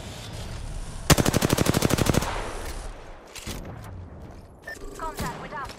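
Rapid automatic gunfire from the Apex Legends battle royale game, a loud sustained burst of about a second with evenly spaced shots, followed by quieter in-game noises and a few scattered sounds.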